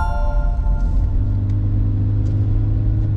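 Subaru Crosstrek e-BOXER prototype engine revving as the accelerator is pressed, a low steady hum heard from inside the cabin that builds gently and stays quiet, with no voices.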